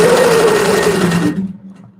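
A sewing machine quilting a large wedding ring quilt runs with a loud, steady mechanical whir and hum, then cuts off after about a second, leaving a quiet fading tail.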